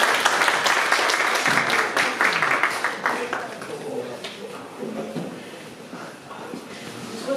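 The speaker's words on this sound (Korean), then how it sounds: "큰 박수 부탁드리겠습니다" An audience at a talk applauds in a dense burst that fades over several seconds as voices and crowd murmur rise beneath it.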